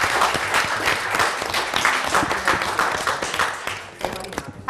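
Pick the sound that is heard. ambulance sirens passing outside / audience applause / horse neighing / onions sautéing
audience applause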